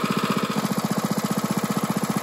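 A 2-inch trash pump's small gasoline engine idles steadily up close, with a rapid, even chugging pulse that holds throughout and no talk over it.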